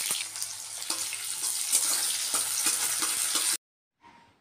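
Onion fries in hot oil with nigella seeds and a dried chilli, giving a loud, close crackling sizzle with rhythmic stirring taps for about three and a half seconds before it cuts to near silence.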